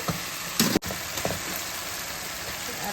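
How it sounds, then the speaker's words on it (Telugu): Masala frying in a pan before chicken goes in, a continuous hissing sizzle with a couple of louder stirring clatters near the start, close and even throughout. "చూడండి బాగా ఫ్రై అవుతుంది మసాలా"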